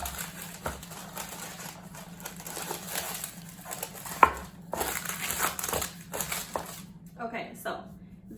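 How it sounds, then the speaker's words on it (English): Parchment paper crinkles and crackles in irregular bursts close by as it is fitted into a cheesecake pan, with light handling clatter and a steady hum underneath. "So I'm going to spray the parchment paper here so this can stick to it."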